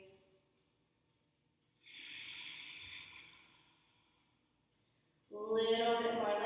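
A yoga participant breathes during a vinyasa flow, one long soft breath swelling and fading in the quiet, followed by a louder, rougher exhale near the end.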